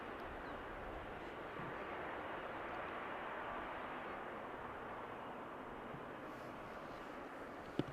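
A jet airliner taxis off the runway at Amsterdam Schiphol Airport, heard as a distant, even engine roar that holds steady throughout. There is no talk.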